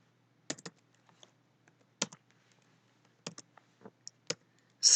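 Computer keyboard keys click in short, irregular clusters while someone types C# code, crisp and close in an otherwise quiet room.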